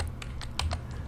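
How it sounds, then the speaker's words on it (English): Arrow keys on a computer keyboard are pressed several times in quick succession, giving crisp clicks over a low steady background hum, with no talking. "use your arrow keys on your keyboard, up and down, left and right on the keyboard with the arrows"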